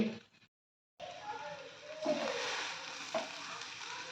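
Athalakkai (a bitter gourd) stir-frying in a pan, a faint continuous sizzle with occasional stirring scrapes, beginning after a brief silent gap and fading slightly toward the end.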